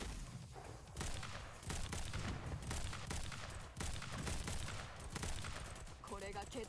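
Gunfire in the Girls' Frontline mobile game, dense rapid volleys of shots rattling continuously at high level, a brief lull before the firing resumes, with game effects layered on top.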